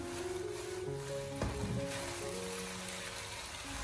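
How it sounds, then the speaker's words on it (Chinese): Cucumber and sliced ham sausage stir-frying in a hot wok with a little finishing oil, a steady close sizzle broken by a sharp scrape or toss of the spatula midway, with no talking. "最后在出锅之前，我们再往里面添加少许的明油，将它翻炒均匀"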